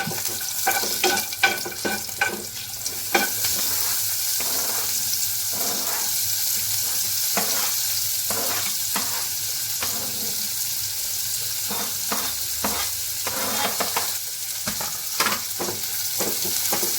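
Cumin and asafoetida tempering sizzles in a pan, a constant hiss of frying broken by repeated light clinks and scrapes of stirring, close and with no speech.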